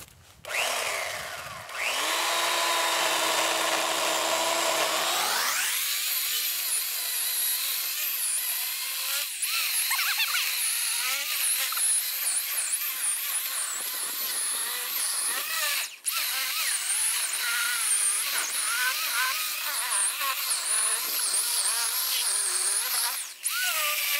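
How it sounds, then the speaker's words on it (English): An electric chainsaw powered by a VTOMAN Jump 1500X power station revs up after a brief start and runs steadily and loud, its high motor whine continuing with small dips as it cuts into a log. "can it run an electric chainsaw?"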